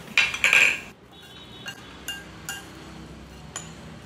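A utensil mixing hot coconut milk into green rice flakes in a bowl, with a few bright clinks of metal against the dish at first, then soft scattered taps and scrapes, close and quiet.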